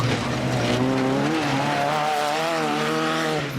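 An off-road race car engine roars loudly past at a desert sand race, its revving pitch sweeping up and holding as it draws near, then dropping away at the end.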